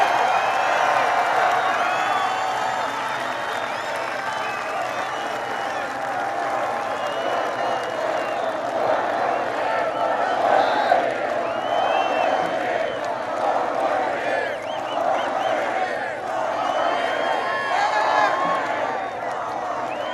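A large crowd at a 2022 Trump political rally cheers and claps in a sustained, loud roar with scattered whoops, while a voice speaks through it.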